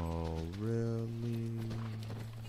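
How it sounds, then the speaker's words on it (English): A horse in the video game The Last of Us gives a drawn-out whinny, moderately near and fairly quiet, with faint game ambience around it. "That's our horse."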